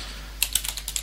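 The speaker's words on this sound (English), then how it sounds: "All I have to do is type in SHA-1" Fingers tap out a command on a computer keyboard, a quick burst of about eight close, crisp keystrokes after a brief quiet pause over a low steady hum.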